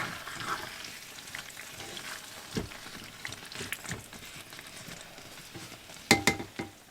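Squash simmers and sizzles gently in a pan over a low flame during roadside camp cooking, a soft, continuous crackle broken by a few louder pops and clatters of stirring near the end.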